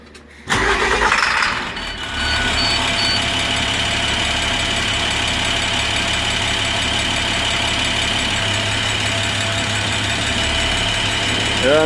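International DT MaxxForce diesel engine, in-frame rebuilt, cranks briefly and fires, then settles into a loud, steady diesel idle that runs on close by without a break.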